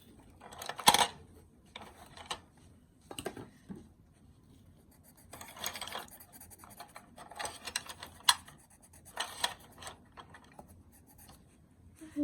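A pencil is drawn across paper while sketching a blue sky, producing close, quiet bursts of scratchy scribbling separated by short pauses and occasional light taps.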